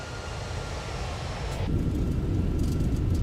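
In a flight simulator, an Airbus A320 rolls out on landing as a deep engine roar swells louder when reverse thrust comes in, a steady low rumble close and continuous.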